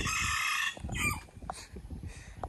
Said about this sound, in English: Got some chickens and roosters saying hello.